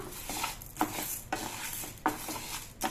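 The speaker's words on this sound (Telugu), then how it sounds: "మనకి వేగుతున్నాయండి మినపప్పు, చూసారా?" Urad dal (black gram) roasts in a pan, a soft steady dry rustle broken by a few sharp scraping stirs, each one a little louder than the bed around it.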